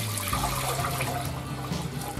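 Water splashes steadily into a pot, one and a half litres for Nordic black rye bread with walnuts and cranberries, a close, continuous gushing pour across the whole moment.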